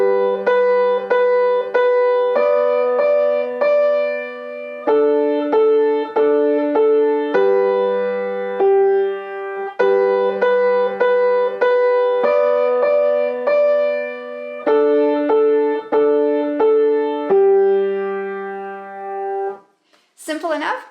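Solo piano plays Daniel Gottlob Türk's March I with both hands together, in crisp, evenly spaced notes and chords in a steady marching rhythm. It is clear and close, with a short noise at the very end.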